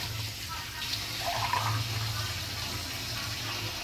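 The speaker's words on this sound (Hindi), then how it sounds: "4 गिलास चावलों के थे, तो हमने 7 गिलास पानी डाला है इसमें" Water is poured steadily into rice for beef keema pulao, a continuous splashing rush that holds for several seconds without pause.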